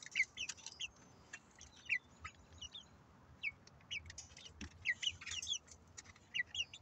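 Easter Egger hens cluck softly and repeatedly in a quiet farmyard, with short chirpy calls scattered at an irregular rhythm and a low background hum.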